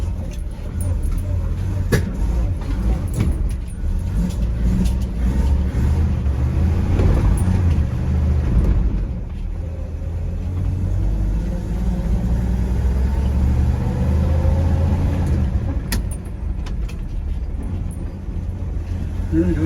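A 1951 GMC truck engine runs steadily in gear while driving, a loud, continuous low rumble with uneven spitting and sputtering. Someone speaks briefly over the drone.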